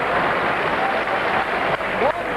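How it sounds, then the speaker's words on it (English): A crowd at a 1996 bowls finals day applauds a fine delivery with steady, sustained clapping, heard from a moderate distance with a commentator talking over it. "applause from this audience here"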